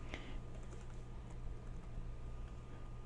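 Fingers type steadily on a computer keyboard, a continuous patter of soft key clicks over a low background hum.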